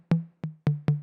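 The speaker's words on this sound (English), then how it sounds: "Then again another 808 sound, which is this tom." Four punchy 808 tom hits for a minimal deep house track, each with a low pitched body and a short decaying tail, played in an uneven groove with no other sound around them.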